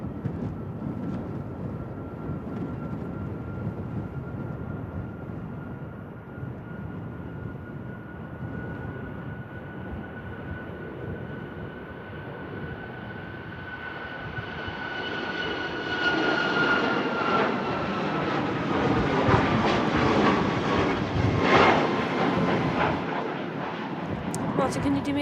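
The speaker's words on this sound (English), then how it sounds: "737 back out to Brussels." A Ryanair Boeing 737 jet departs Manchester Airport for Brussels in stormy, windy weather, its engine roar building steadily and growing louder in the second half, with a voice talking over it and wind buffeting throughout.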